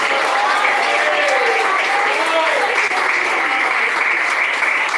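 Church congregation clapping during a worship service, loud steady applause filling the hall, with voices calling out underneath throughout.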